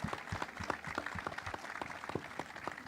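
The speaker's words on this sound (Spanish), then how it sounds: "les pido para todos ellos que nos van a acompañar en este momento un fuerte aplauso" Scattered applause from a small audience at an evening talk, individual claps distinct and uneven, quiet and somewhat distant, with no speech over it.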